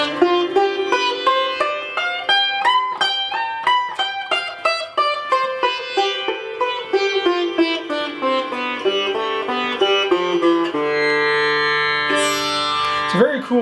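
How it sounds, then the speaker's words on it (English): Raag Bhageshri scale played on a bowed or plucked melodic instrument: notes rise and fall stepwise with slides and bends between pitches, ending in a sustained drone-like chord, close and clear with no talk. "sort of the scale sounds like this"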